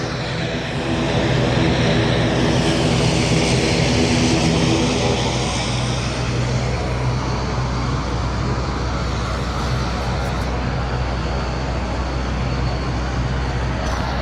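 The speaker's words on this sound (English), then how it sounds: "Embraer 190 starting to taxi down to the runway holding point" An Embraer 190 airliner taxis toward the runway holding point at Madeira airport, its engines a steady, loud whine and rumble that holds throughout, with no voices.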